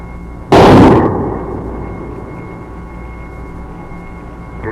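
A single loud, sharp blast of naval gunfire from the USS Boston during shore bombardment, followed by a fading rumble that trails off over several seconds.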